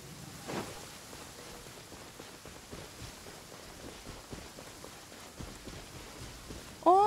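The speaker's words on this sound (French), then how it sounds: "je sais pas pourquoi il pleut comme ça" Rain falls steadily in the video game Genshin Impact, a soft continuous patter with scattered drop ticks, and a short bright chime sounds near the end.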